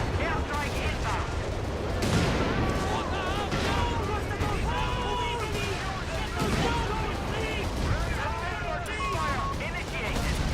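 Heavy, sustained rumbling blasts from an airstrike in a video game roll on without pause, layered with scattered gunfire while game voices and radio chatter carry on over it.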